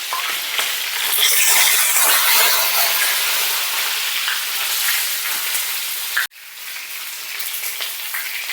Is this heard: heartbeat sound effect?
no